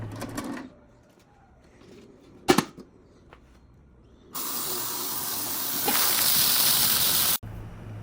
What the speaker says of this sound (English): we're going to go ahead and throw her in the ultrasonic cleaner and let her cook